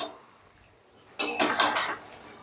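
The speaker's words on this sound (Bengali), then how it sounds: "এবারে চিকেনগুলো সসের সাথে বেশ ভালো করে মিশিয়ে নেব" Fried chicken pieces for chilli chicken are tossed in sauce in a pan: after a short quiet moment, three or four close, clattering scrapes of a spatula against metal.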